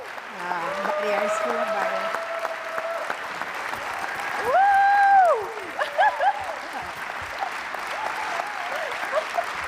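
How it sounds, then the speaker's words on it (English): Conference audience applauding during an opening ceremony as a performer called Yeti is welcomed, clapping mixed with music and a loud amplified voice, tones swelling midway. "can I also ask that you give a massive round of applause to our second amazing queen, Yeti"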